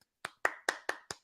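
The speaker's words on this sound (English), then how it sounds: "I'll give a little golf clap" Five light, polite golf claps land in a steady, unhurried rhythm, each one a short, close, crisp smack with clear gaps between, and no one speaking.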